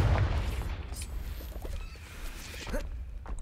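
A Confringo blasting spell explodes in the Hogwarts Legacy video game: a deep, loud boom right at the start, followed by a rumbling tail and a few faint crackling pops.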